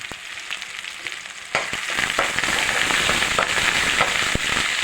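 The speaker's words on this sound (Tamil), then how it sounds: "எண்ணெய் ஊற்றி வச்சுட்டு கருவி சீரகம் நெல்லு பூண்டு வெங்காயம் கருவேப்பில் எல்லாம் போட்டு வதக்குது" Cumin, garlic, onion and curry leaves dropped into hot oil, the sizzle jumping louder after a second and a half and then frying steadily with crackles, close up, with no talking.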